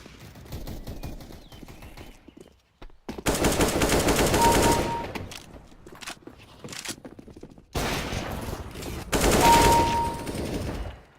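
Rapid automatic gunfire from CS:GO aim training, delivered in loud sustained bursts separated by quieter gaps, with mouse-clicking game audio in between and no voices.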